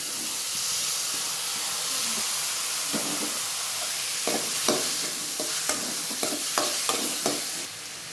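Tomato pieces hit a pan of golden-brown fried onions and sizzle with a loud, continuous hiss, joined by scattered scraping stirs near the microphone.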